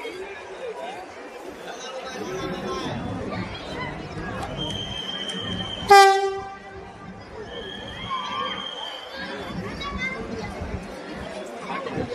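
A Make in India train at Chirala railway station gives a single loud horn blast midway, standing out over the steady chatter of a large crowd gathered on the platform.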